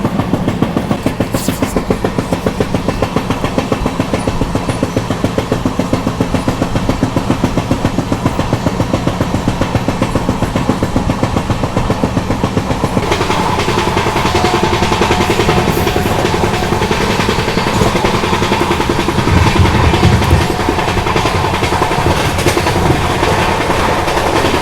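West Coast Superfast Express from Chennai Central to Mangalore running on rails past hills and coconut palms, a steady loud rumble with rhythmic clickety-clack of wheels over rail joints, growing rougher and louder partway through.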